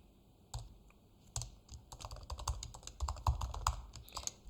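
Keys clack on a computer keyboard in an uneven run of close taps, sparse at first and then quicker and denser, with no voices.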